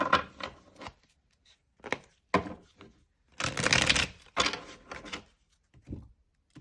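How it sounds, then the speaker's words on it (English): A tarot deck riffled and bridged in several quick bursts, with crisp flapping clatter, pauses between each shuffle and one longer, louder riffle in the middle. "Okay, we'll do one last shuffle."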